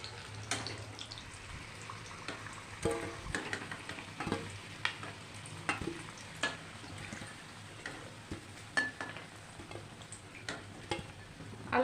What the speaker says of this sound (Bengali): আলুগুলো ভেজে নিলাম